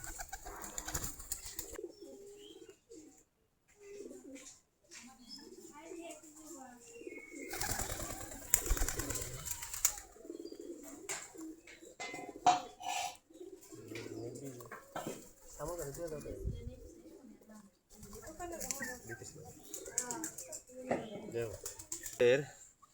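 Domestic desi giribaz pigeons cooing while eating their morning feed, soft repeated low coos from several birds up close, with intermittent bursts of wing flutter and rustling between quieter pauses.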